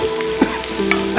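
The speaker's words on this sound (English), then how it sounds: "Literally in with your wings. Now, at this point we need to sear them" Chicken wings searing in a hot pan with oil, a brief loud sizzle with crackling bursts, backed by steady tonal sounds.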